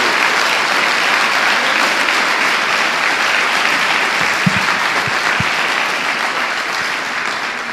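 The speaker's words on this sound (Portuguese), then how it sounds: "Dê uma salva de palmas a Jesus" Church congregation applauding during a sermon, dense sustained clapping throughout, loud and close, with a few low thumps partway through.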